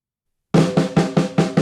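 Snare drum flam groove at 150 BPM for a drum part, a quick run of six loud, tightly spaced snare hits played alone, close and bright.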